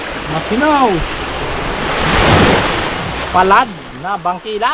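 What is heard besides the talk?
ocean waves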